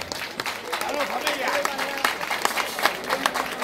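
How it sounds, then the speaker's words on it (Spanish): Audience applause at a Cuban music event, steady dense clapping throughout with cheering voices and shouts mixed in, fairly close and moderately loud. "Y merece también un aplauso eso."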